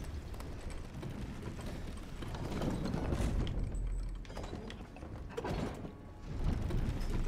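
A lever mechanism in Elden Ring clanks and ratchets faintly, a low rumbling grind with scattered mechanical clicks and knocks over quiet background ambience.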